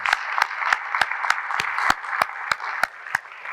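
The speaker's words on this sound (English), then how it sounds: "I want to give them a round of applause and thanks for your willingness to serve" At an electric co-op district member meeting, a hall audience claps for board candidates: a murmuring crowd bed under a steady, evenly spaced beat of sharp, close claps.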